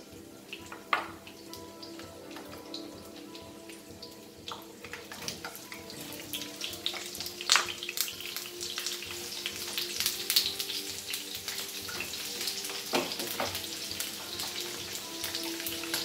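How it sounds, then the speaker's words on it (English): Cauliflower florets fry in hot oil with a soft continuous sizzle that grows louder and busier over time, punctuated by sharper pops and spatters, close and without talk. "in this oil we will fry our cauliflower, that is our gobi"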